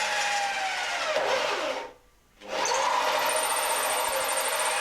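A hole saw cuts out holes in the steel box section of a camper van. It gives a loud, continuous grinding whine, broken once by a brief pause before cutting resumes at full volume.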